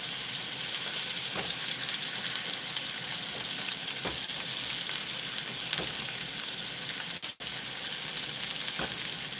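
Steak searing in a hot pan at home, a loud, continuous hiss and sizzle with scattered pops, close up and unbroken except for one brief dip near the end, with no talking.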